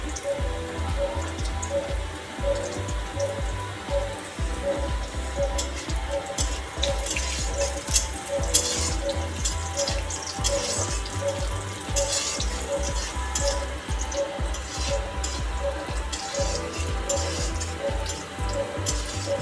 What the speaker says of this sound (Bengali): এর মধ্যে আমি কাজু কিশমিশগুলো ভেজে নেবো